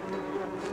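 Bee buzzing in the video game Donut County, a steady, close droning hum with a strong sustained tone, continuous and alone for the whole short stretch.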